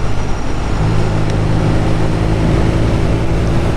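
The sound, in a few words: BMW R nineT motorcycle riding through corners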